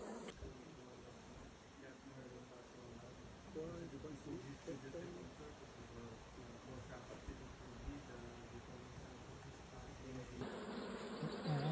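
Honeybees buzzing steadily around apiary hives, a continuous close drone with pollen-laden foragers nearby, while people talk quietly beneath the hum throughout.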